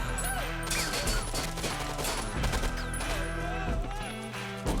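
Dense action-movie battle din of gunfire and grenade blasts, with rapid shots and crashes layered under a swelling orchestral score, loud and continuous throughout.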